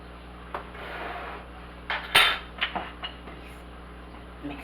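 Italian seasoning and salt stirred together in a bowl for crazy crust pizza, giving a few sharp utensil clinks and scrapes against the bowl over a low background hum, close and fairly quiet.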